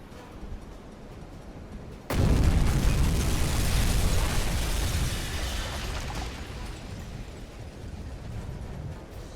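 A torpedo explodes against a ship in the submarine game Uboat: a sudden heavy blast breaks over a quiet background, then a long, loud rumbling roar slowly fades over several seconds.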